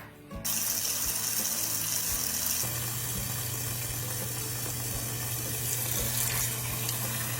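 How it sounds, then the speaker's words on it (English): Tap water gushes into a pot holding squash, a steady, close splashing rush that starts abruptly and deepens in tone as the pot fills, continuing without talk. "we've got our squash in there. We're gonna fill it up with water."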